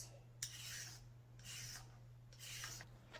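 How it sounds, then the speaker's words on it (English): A peeler scrapes a raw carrot in three separate rasping strokes, each about half a second to a second long with pauses between, close and fairly soft over a faint steady hum. "On to the next ingredient, I have carrots. I'm going to peel this off first."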